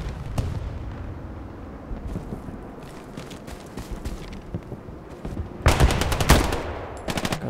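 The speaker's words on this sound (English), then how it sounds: "Gun shooting at the commander." Gunfire in the World War II shooter Hell Let Loose: scattered distant shots and battlefield rumble, then sharp, loud automatic bursts near the end of the clip with a final short volley.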